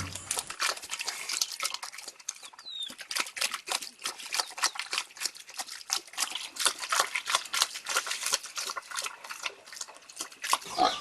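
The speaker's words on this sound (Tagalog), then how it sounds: "Personal ni special sa akin ang mga baboy. Para bang sarap na sarap lang kumain." Pigs eat noisily in a pen built of stacked stones in Betwagan, Sadanga, with dense, rapid wet chomping, slurping and snuffling sounds close by, steady throughout without speech.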